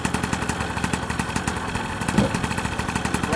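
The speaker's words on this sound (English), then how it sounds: "You can see that's enough speed to make the propeller turn gently." Vittorazi paramotor engine idling near 2600 RPM with the propeller turning gently, a close, steady pulsing putter in an even rhythm throughout.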